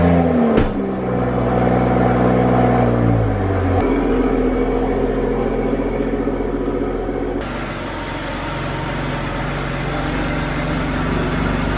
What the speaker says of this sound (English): let's go ahead and get the Toyota Supra outside so we can get the 328 inside.